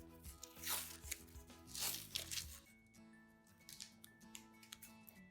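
Scissors cut fabric strips for a tote bag, giving two or three close, crunchy snipping bursts early on, then quieter ticks and light handling noises, heard over faint tonal background music.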